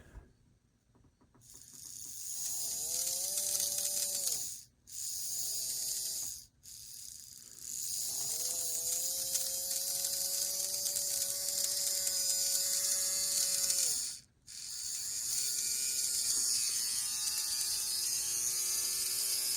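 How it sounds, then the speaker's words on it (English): A Pemco ALCO C-430 model train motor runs with a steady whirring, rattly buzz that rises and settles in pitch, cutting out briefly several times before restarting, faint and close. "It's not the best sounding motor."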